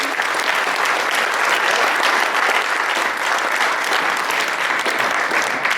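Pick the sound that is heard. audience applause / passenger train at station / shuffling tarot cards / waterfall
audience applause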